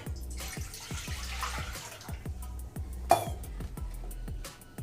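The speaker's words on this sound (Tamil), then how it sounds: "இப்போ இந்த சோயாவை வந்து இன்னொரு வாட்டி பச்சை தண்ணியில் அலசி எடுக்கணும்" Soaked soya chunks being rinsed in fresh water in a kitchen, with rhythmic sloshing splashes, light drips and an occasional clink, close and fairly quiet.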